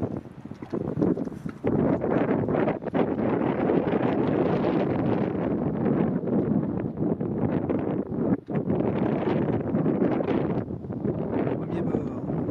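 Strong, steady wind buffets the microphone beside a 1M-class model sailboat sailing at Tanchet, a loud, continuous roar with gusty surges that carries through the whole stretch without pause.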